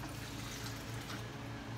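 Water pours steadily into a Thermomix bowl as a soft, continuous trickle, faint and close, with no talking.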